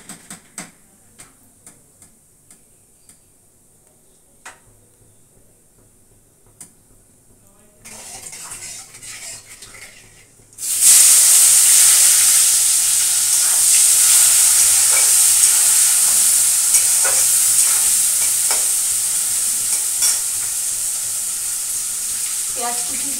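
Chopped onion hits hot oil with a cumin tempering and breaks into a loud, continuous close sizzle after several seconds of quiet ticking and faint clatter.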